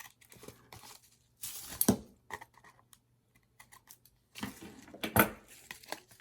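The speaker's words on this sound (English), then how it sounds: "I'm just gonna snip off the edges." Scissors snip the edges of planner paper in short, crisp bursts of cutting and faint paper rustle, close up in a quiet room, with pauses between cuts.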